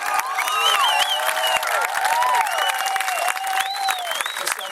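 A crowd applauds and cheers at a Special Olympics event in San Francisco, with loud continuous clapping, high whoops and shouted voices layered over one another throughout.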